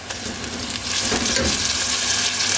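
Steady sizzling and crackling of onions frying in a pan for beef biryani, close and moderately loud, growing a little stronger partway through, with no talking.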